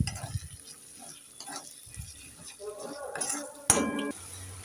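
A utensil stirs masala with green chillies and coriander in a pan, giving soft scrapes and clinks with a brief louder clatter near the end, all fairly faint.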